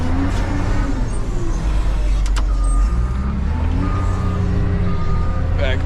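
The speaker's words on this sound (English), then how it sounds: "Back this up here." A truck or trailer-hauling vehicle backs up on a work site, its reversing beeps sounding over a steady low engine rumble, with a few faint clatters along the way.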